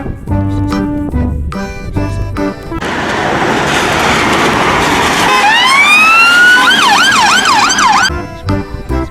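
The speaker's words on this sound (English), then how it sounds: "This is a police car." A loud police car siren sweeps upward, then wails up and down in fast, repeating cycles, with bright electronic music playing before and after it.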